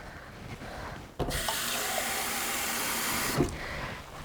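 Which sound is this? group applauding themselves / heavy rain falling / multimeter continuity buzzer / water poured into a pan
water poured into a pan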